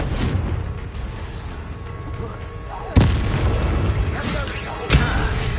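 Two sharp explosive booms from a blasting spell in the video game Hogwarts Legacy, about two seconds apart, each a loud thump with a rumbling tail over steady battle ambience.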